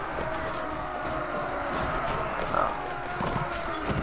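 Horse hooves clop in Mount&Blade: Warband, a soft, continuous patter of steps under a low game ambience, with a short exclamation from a voice.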